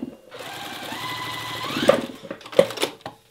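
A sewing machine runs steadily, stitching the seam of an hourglass quilt block with raw edges matched and no pins, a close continuous whir that falters near the end with a couple of sharp clicks.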